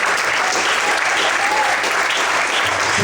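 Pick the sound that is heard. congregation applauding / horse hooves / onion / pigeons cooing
congregation applauding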